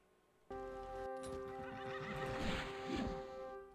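A horse in the Daggerfall Unity video game lets out a loud, clear whinny that rises and carries on for several seconds, with faint hoof clatter mixed in.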